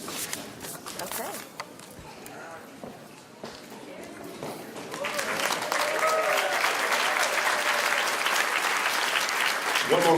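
At a college graduation ceremony, scattered claps and shuffling mix with talking and movement at first, then a fuller round of applause for Spirit Award winners swells and holds loud through the second half.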